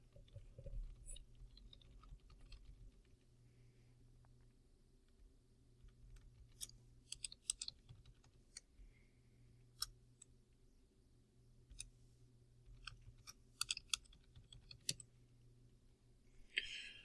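Faint, quiet clicks of computer keys as a password and username are typed, scattered irregular taps and short bursts over a low steady hum, with no voices.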